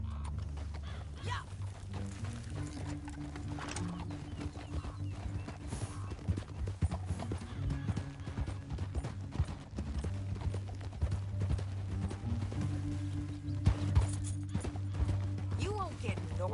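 Steady clip-clop of horse hooves trotting throughout in a PS4 video game, with a low rumbling background and occasional creaks; speech-like voices murmur faintly underneath.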